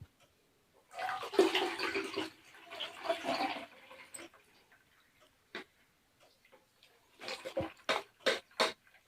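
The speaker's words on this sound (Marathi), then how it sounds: "आता आपण हे पाणी परत गाळून घेऊ" Water strained off soaked millet (bajra) in a home kitchen, running and splashing in a few loud bursts between pauses, ending in short sharp trickles and drips.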